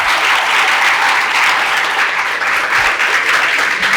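Sustained, loud applause from a lecture audience, many hands clapping in a dense, even roar with a faint crowd murmur, no talking over it.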